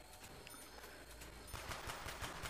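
Gunfire in a zombies video game on the Ascension map: a fast, faint rattle of shots that grows denser and a bit louder toward the end, set against steady game background noise.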